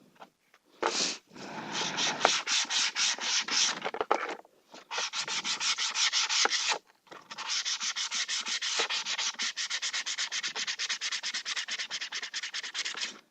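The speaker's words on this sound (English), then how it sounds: "any places that look like they may have a rise in them, sand those down" PVC Sintra sheet is sanded by hand in a workshop, making close, loud rasping strokes in rapid rhythmic bursts, broken by a few short pauses, with no talking.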